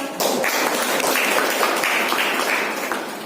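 Sustained applause welcoming the chief guest at a felicitation ceremony for class 12 toppers, a dense even patter of many hands clapping from start to finish.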